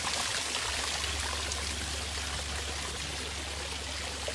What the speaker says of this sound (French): Ici, c'est deux cascades qu'on a fabriquées